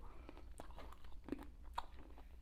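Close crunching bites and chewing on crisp Trader Joe's vegan chips made with red pepper and tomato, with several quick crisp snaps over a soft mouthy background.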